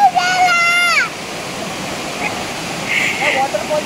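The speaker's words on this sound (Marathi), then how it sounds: "आम्ही आलोय वॉटरफॉल जवळ" The Vasundhara waterfall at Bhandardara roars as a loud, constant wash of falling water. A brief voice-like whistle rises over it at the start, with faint sounds later.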